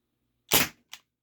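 A single sharp crack from a Ruger P345 airsoft pistol fired close by, followed by a fainter click, then silence.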